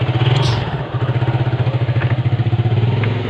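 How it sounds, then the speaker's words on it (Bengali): A motorcycle engine starts and settles into a steady, loud, close idle with a rhythmic throb, on a street in heavy traffic. "দেখেন সে তার বাইক স্টার্ট দিবে এখন।"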